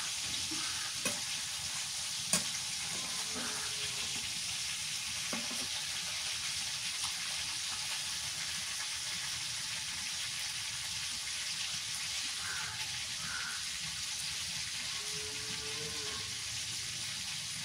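Steady crackling sizzle of pangas fish frying in a new kadai, continuous throughout with a few sharp clinks of a utensil near the start.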